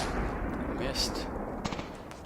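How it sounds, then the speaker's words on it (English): Mortar fire in Graviteam Tactics: Mius Front, muffled booms and thuds rumbling across a noisy battlefield, with a heavier impact near the middle and scattered smaller bursts after, under talk. "Take the mortar fire"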